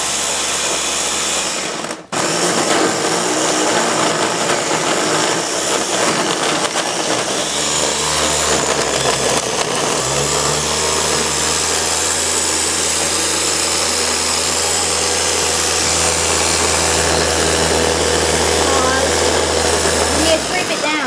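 A Ninja blender grinds a homemade Blizzard, a loud, steady mechanical whir that starts after a brief pause and shifts in pitch as the contents break down.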